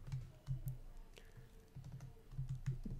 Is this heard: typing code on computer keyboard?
yes